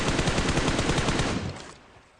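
Rapid automatic gunfire sprayed continuously in a shooting video game, a loud dense burst of shots for over a second before cutting off and trailing into a fading echo, with no speech over it.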